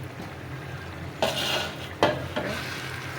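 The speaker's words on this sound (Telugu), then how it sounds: "ఈ మసాలాలన్నీ పుదీనా కొత్తిమీర అంతా వేగిపోతుంది." Mint and coriander frying with spices in a pan for bagara rice, a low sizzle broken by two loud scraping stirs and a softer third, close up with no talk.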